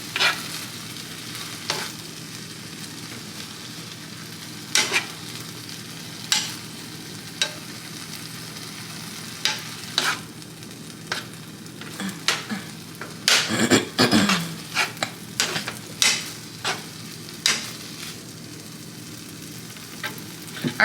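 A pan of vegetarian food fries with a soft, steady sizzle while a utensil scrapes and knocks against it in irregular strokes, with a busier burst of stirring partway through.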